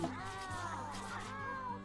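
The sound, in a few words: cats meowing as a fox attacks them, in a video game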